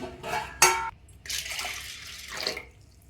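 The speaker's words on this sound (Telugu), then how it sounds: "ఇందులో ఒక గ్లాస్ వాటర్ పోయాలి" A glass of water poured into a pot of washed toor dal, splashing in two bursts with a short pause between, close and fairly loud.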